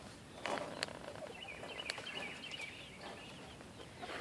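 Chickens and small chicks in a backyard coop, with soft scattered clucks and chirps close by over a quiet rustling background, plus a few brief taps and shuffles.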